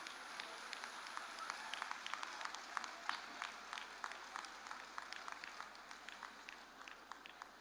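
Audience applause for the governor of Lagos State at a national women's conference: steady, fairly faint clapping from a crowd, with scattered sharper claps standing out, no voices over it.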